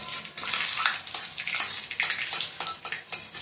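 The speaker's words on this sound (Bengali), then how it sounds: "ফোড়নটা ভাজতে একটু দেরি হচ্ছে।" Whole tempering spices fry in hot oil for a lentil dish, giving a continuous close crackling sizzle with bursts of spattering pops, no talking.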